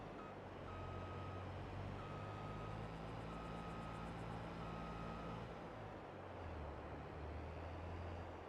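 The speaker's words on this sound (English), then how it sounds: "I have to back into this to repair it and then put the header back on the trailer." Reversing beeps from a farm vehicle backing up to a header trailer in Farming Simulator 22, four evenly spaced tones over a steady low engine drone, quiet and without talk.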